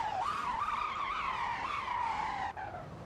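A car drifts on a racetrack in the Motor Town: Behind The Wheel video game, its tires skidding in one long, loud, continuous squeal that wavers in pitch for about three seconds with a brief dip near the end.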